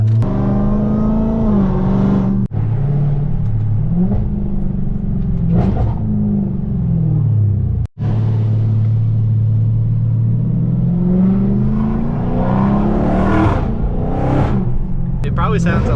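A very loud car engine, a Hellcat, revs hard and accelerates close by, its rumbling roar rising and falling in long sweeps with a brief cut mid-way, steady and dominant throughout.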